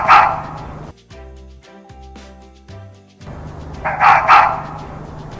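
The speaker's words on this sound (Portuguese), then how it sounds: "Raposa." A fox gives a few sharp barks and yips, a harsh bark at the start and a pair near the end, with quieter tonal whines between, close and alone.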